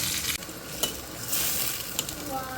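Water boiling in a cooking pot while a fish curry is being prepared, a steady bubbling hiss filling the clip with a few brief clicks, close by and moderately loud.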